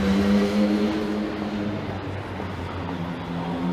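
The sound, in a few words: motorcycle passing through intersection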